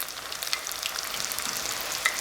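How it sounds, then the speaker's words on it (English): Fish fingers shallow frying in oil held around 350 degrees, a steady close sizzle with crackling pops throughout and no talk. "You want it to keep at that 350 the whole time that it's shallow frying these little fingers."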